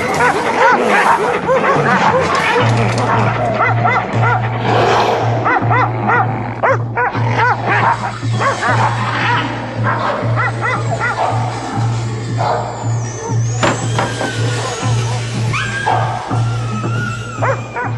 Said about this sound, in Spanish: Al igual que los lobos, los perros matan a los suyos.